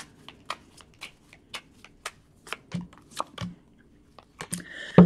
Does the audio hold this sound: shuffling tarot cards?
yes